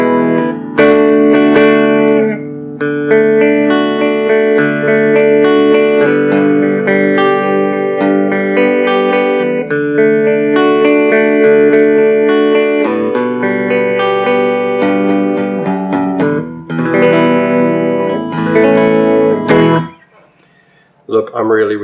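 An Artist Blackcherry semi-hollow body electric guitar played loud with both pickups selected, strummed chords and single notes ringing out over about twenty seconds before a brief pause and a final strum.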